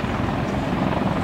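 A helicopter manoeuvres at an air show in Kecskemét, flying backwards through a turn, its steady broadband rotor and engine roar filling the brief moment at a constant, fairly loud level.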